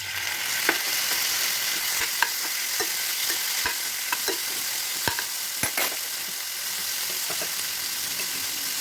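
Spices with tomato, cumin, mustard seed and radhuni frying in oil for mutton kosha, a steady loud sizzle with scattered scraping clicks from stirring, close by and without talk.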